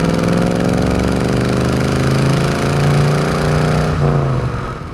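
A 1965 Ford Mustang Fastback with its original 289 V8 and four-speed manual pulls steadily through the gears, its engine note dipping and climbing as each shift changes the pitch. It is loud and close, with no voices.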